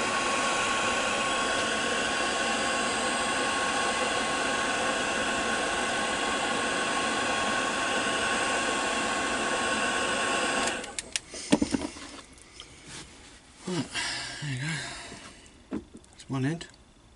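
A heat blower roars in a steady whine for about eleven seconds while it shrinks tubing on a motorcycle battery lead, then cuts off, leaving handling clicks and a voice talking.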